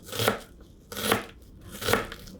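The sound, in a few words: chopping onion in a small kitchen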